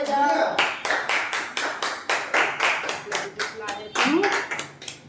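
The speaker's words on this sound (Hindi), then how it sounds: "तालियां बजाओ।" Family members clap rhythmically in a steady run of sharp, close hand claps at a home cake cutting, with voices talking over the beat.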